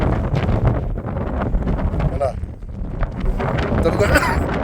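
Strong wind buffets a mountaintop in the hills near Silent Valley, a steady rushing roar battering the microphone with gusty surges throughout.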